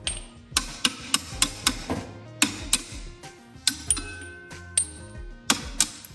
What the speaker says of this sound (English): They give you this little hammer, just go through, knock them out.